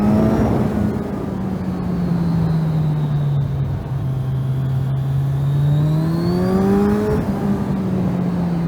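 A motorcycle engine held under steady throttle, a continuous loud droning roar whose pitch sags slightly and then climbs again as the revs rise, close up, with wind noise and no talk.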